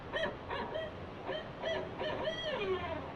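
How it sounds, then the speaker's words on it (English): A barred owl call plays from a speaker at an indoor nature exhibit, a series of rhythmic hooting phrases that rise and fall over a few seconds against faint room noise. "if you ever wanted to sound like what a barred owl sounds like"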